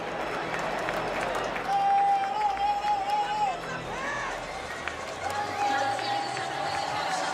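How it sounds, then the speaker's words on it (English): A big crowd at Dodger Stadium roaring and applauding in an ovation for pitcher Clayton Kershaw, a sustained distant swell of cheering and clapping under a commentator's voice, with a whistle-like tone cutting through. "Off the mound to an incredible ovation"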